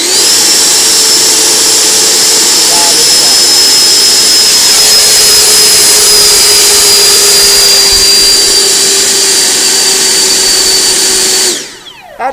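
An RC F-16 model jet's engine taxis with a loud, steady high-pitched turbine whine and roar that holds constant, then cuts off abruptly near the end.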